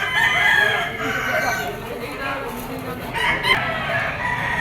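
A Gilmore bull stag gamecock crows amid other roosters and clucking fowl at a Padre Garcia, Batangas market, with layered overlapping crows, moderately near, and voices murmuring underneath.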